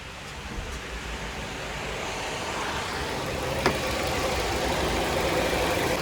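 A Ford Fusion engine idles with the air conditioning switched on but the compressor clutch not engaging, a steady broadband whooshing hum close by, with one faint click partway through.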